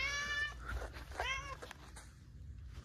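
A cat meows twice in quick succession, fairly clear and close, with a pause between, then quiet room noise.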